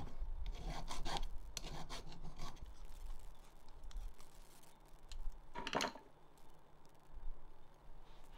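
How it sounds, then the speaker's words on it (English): A file works around the edges of a PC faceplate in irregular short rasping strokes, close and moderately loud, coming in scattered bursts with pauses between them. "And some filing all around."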